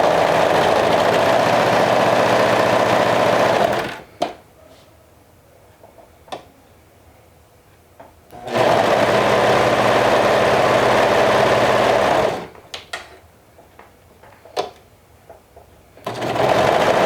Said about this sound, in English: I'm going to sew the sleeves and the side seam with a 1/2 inch seam allowance on both sides